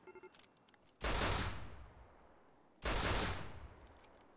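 Gunfire in the video game RimWorld: two loud, sharp shots about two seconds apart, each a broad crack that fades over a second, after a few faint ticks.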